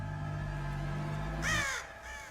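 A crow caws loudly in a creepy horror-movie woods scene, a harsh rising call over a steady droning background hum.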